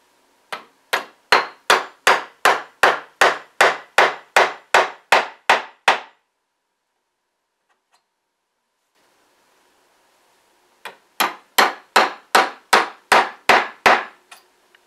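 Small nails are tapped into drywall with sharp, evenly spaced hammer blows, a quick run of about twelve strikes, a pause of several seconds, then another run of about nine, close and clear with no talking.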